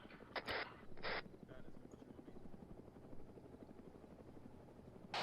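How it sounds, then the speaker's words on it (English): Helicopter rotor chopping in the Arma military shooter, a steady low throb running through the whole stretch at moderate distance, with short bursts of radio-style voices cutting in at the start and end. "Helicopters incoming."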